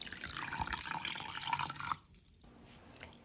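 Water pours steadily into chocolate cake batter in a splashing stream for about two seconds, then stops, leaving a few faint drips.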